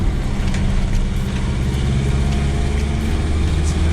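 A Mercedes Sprinter van's engine pulls in third gear, a steady loud drone with dense low harmonics running unbroken from start to finish, heard from inside the cab.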